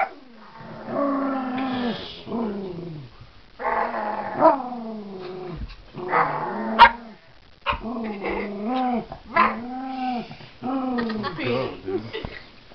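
A small dog, a chihuahua or a dachshund, growls and barks in a play fight indoors, with the growls coming in repeated rumbling bursts. A person growls back at the dog, imitating the sound, and people talk throughout.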